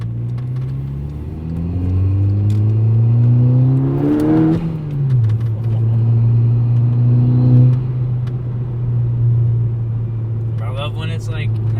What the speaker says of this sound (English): you get to hear my